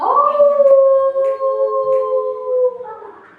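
A storyteller imitates a lion's roar with a long, sustained vocal howl that holds steady for almost three seconds before trailing off, loud and alone.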